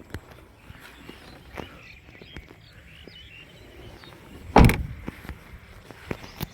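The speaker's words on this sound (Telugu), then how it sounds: "డోర్ సౌండింగ్ అనేది కూడా చాలా పర్ఫెక్ట్గా ఉంది డోర్లు డెంట్ అయితే సౌండ్ వేరే వస్తుంది" Car door of a 2016 Maruti Suzuki S-Cross Zeta diesel shut once with a solid, loud thud midway, set against quiet outdoor ambience with faint birds and light footsteps.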